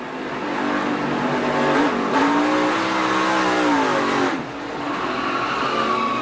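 Onboard a race car, the Sun Energy One, at a season opener through turn 1: the engine note rises and falls loudly between gear changes and lifts, heard from inside the cockpit.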